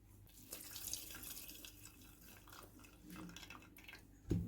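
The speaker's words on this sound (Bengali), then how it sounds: "এবার এগুলো ঢেলে নিই।" Blended mint, basil and coriander juice pours into a container, a soft, faint liquid trickle and splash close by with no talking.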